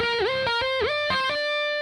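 Distorted electric guitar plays triplet phrases, each opening with a quick whammy bar dive that bends the pitch down and back up, loud and close with no talking.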